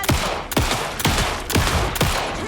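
Rapid gunshots ring out in the video game Alan Wake 2, five loud, sharp reports spaced about half a second apart, each with a short echoing tail.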